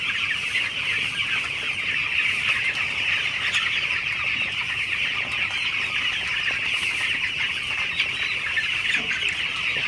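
A flock of broiler chickens in a farm shed keeps up a dense, continuous chorus of clucking and chattering, many birds close together and unbroken throughout, with no voices.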